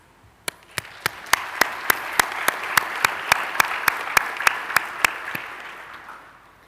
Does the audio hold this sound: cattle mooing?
no